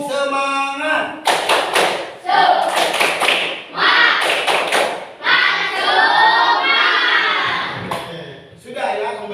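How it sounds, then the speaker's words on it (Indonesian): A class of fifth-grade pupils performs a rhythmic spirit clap, bursts of patterned clapping and thumps alternating with loud group chanting and speech. "sekarang tepuk semangat"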